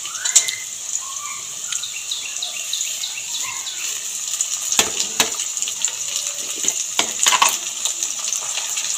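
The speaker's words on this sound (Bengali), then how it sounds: "গরম তেলের মধ্যে এবার গাজরটাও ভেজে নেব।" Sliced carrots fry in hot oil for a Bengali-style mixed vegetable dish, giving a steady close sizzle with a few sharp spatters and stirring clatters mixed in.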